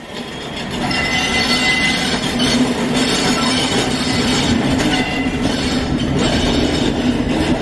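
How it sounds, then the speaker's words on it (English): A train rumbles past close by, wheels clattering and squealing in a loud, sustained roar after a brief build-up at the start. "encouraging these trains to come and show themselves off"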